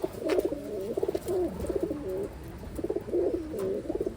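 Taiwan pigeons, a female velvet bird among them, cooing while being handled, steady low rolling coos close by in two main bursts with a short pause between.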